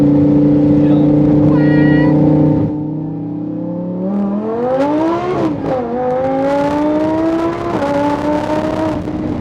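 A supercharged Lamborghini Huracan STO engine idles, then revs up with rising pitch and a faint supercharger whine, climbing through gears in a loud, close, sustained pull.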